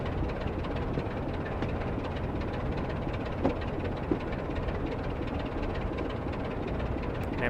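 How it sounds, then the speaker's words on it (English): Class 24 diesel locomotive in Train Simulator coasting slowly into Corfe Castle station on the Swanage line, a steady low engine drone and rail rumble with a couple of faint clunks, no voices. "Now we should be able to just slowly coast into Corfe Castle station"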